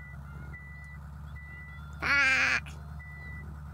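Reversing warning beeps from a bus in the Night Bus driving game, a short shrill electronic burst lasting about half a second, loud over a steady low engine hum, with a man cursing once.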